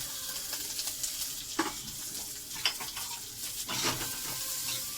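Chopped onion sizzles steadily in hot oil, a constant broadband crackle with occasional louder pops and scraping stirs, close and fairly quiet with no talking.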